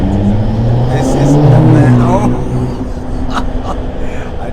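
A Ferrari is held up behind a Citroen Ami on a road near Nice, its engine rumbling steadily nearby while voices talk over it.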